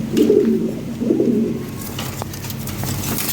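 A pair of black checker Lahori Sherazi pigeons coos in low, rolling bursts close by, two clear phrases followed by softer murmuring amid light background clatter.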